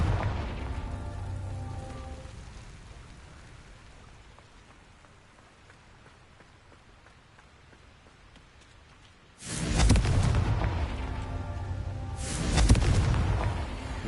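A Confringo fire-blast spell in Hogwarts Legacy erupts as a loud booming burst after a long quiet stretch, followed by a second blast a few seconds later.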